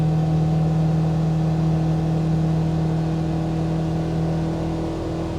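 A 2025 Polaris Ranger XP1000 Northstar UTV on BFGoodrich KM3 tires cruises at steady low speed, its engine giving a continuous humming drone heard from inside the cab without talk.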